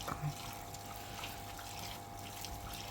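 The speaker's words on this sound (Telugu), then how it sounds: "చక్కగా ఉప్పు పసుపు వేసి బాగా కడగాలి" Fish pieces are washed with salt and turmeric in a bowl of water, making a faint, steady sloshing and trickling close by, with no voices.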